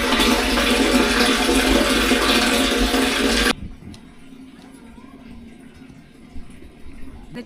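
Water rushing from a pipe into a drum, a loud steady gush that cuts off abruptly midway, leaving faint background sounds.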